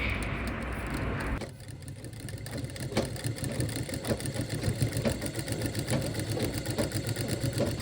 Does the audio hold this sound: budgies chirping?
no